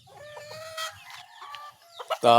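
Chickens cluck and chatter nearby, with caged fowl and a broodcock calling in short bursts, ending in a louder, harsher squawk close up.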